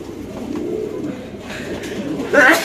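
Domestic pigeons coo in a low, throaty, rolling murmur; a male bird near a nest with eggs and a chick, heard close and fairly steady, with a brief louder flutter near the end.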